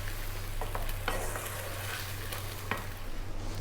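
Sausage pasta sauce simmering in a pan over medium-low heat, a soft steady sizzle with a few scraping stirs of a utensil, close and fairly quiet, with no talking.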